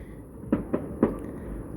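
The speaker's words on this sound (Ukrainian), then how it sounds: "давно я не бачила салютів" Bastille Day fireworks on 14 July, three distant bursts spaced a fraction of a second apart over a low, steady outdoor background, with no talking.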